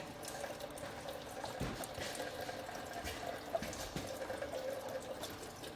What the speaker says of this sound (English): You just see it pouring out.